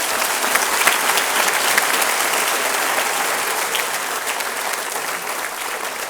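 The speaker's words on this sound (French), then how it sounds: "Joignez-vous à moi pour leur offrir une belle main d'applaudissements." A graduation ceremony audience at Collège Esther-Blondin applauds its teachers: dense, sustained clapping from a large crowd, even and continuous, easing slightly toward the end, with no talking.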